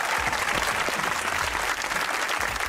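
Studio audience at a Pakistani comedy talk show breaks into steady, dense applause, loud and close throughout, with no speech over it.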